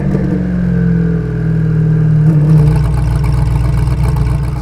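Hennessey Venom F5 hypercar idling and lining up on a straightaway, a steady close engine drone with a low hum that shifts pitch partway through.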